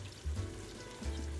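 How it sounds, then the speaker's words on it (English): Ingredients for broccoli cheddar soup sauté in a pan, giving a soft, fairly faint sizzle with a couple of low thumps as food is stirred, no voices. "So I'm going to go ahead and get this sauteed up"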